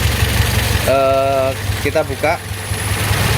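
A Toyota Vios car with an NZFE engine runs at a steady idle, a constant low drone underneath someone speaking close by.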